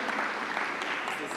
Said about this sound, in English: A big applause from Frida Immersive.